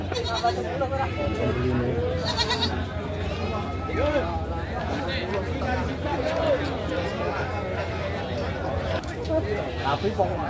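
Goats bleat repeatedly at Pasar Pon Kalidawir livestock market in Tulungagung, several animals calling near and far over a constant crowd murmur and nearby talking.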